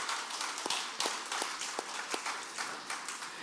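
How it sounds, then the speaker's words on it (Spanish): Church congregation clapping during a sermon: scattered, soft handclaps with a loose irregular rhythm, fairly distant and faint, with no talk over them. "dale palmas a Él, por favor. Apláudale fuerte"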